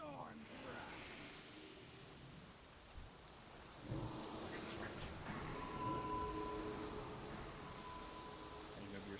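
A lightning-storm thunder effect in a video game booms in about four seconds in, a loud, broad rumble that swells and lingers over a steady wash of storm noise, with faint higher game tones around it.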